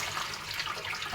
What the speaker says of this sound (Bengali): মাংসগুলো এখন আমি একটা ঝুড়ির ভিতরে ঢেলে দিচ্ছি